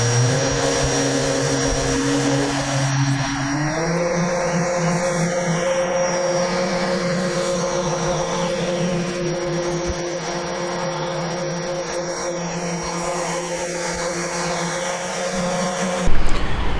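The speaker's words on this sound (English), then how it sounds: "Pretty easy to use, this sander here" A power sander strips paint from the hood of a C4 Corvette, grinding steadily and loudly with a constant whine, its pitch dropping slightly a few seconds in before cutting off near the end.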